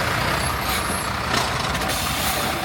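Off-road truck edging its wheels into a gully on an African track, a steady loud engine and driveline rumble with a brief hiss partway through, no talking.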